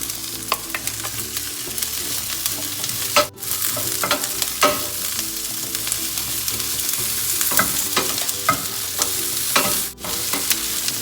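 Capsicum frying in a pan for chilli mushroom makes a constant close sizzle, broken by repeated clinks and scrapes of a spatula stirring it, with no talking.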